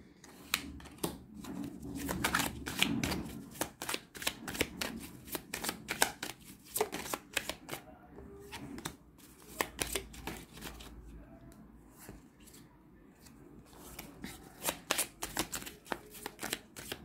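Tarot cards are shuffled and fall, giving rapid riffling flutters and soft slaps in repeated bursts with short pauses, close and crisp with no talk.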